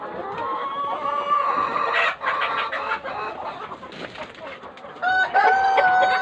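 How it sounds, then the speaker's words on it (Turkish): Farmyard chickens on a village farm cluck in a busy overlapping chorus, with a rooster's drawn-out crow rising near the middle and more loud crowing toward the end, all close and prominent with no talk. "Hasta bir tavuk var, onu koydu."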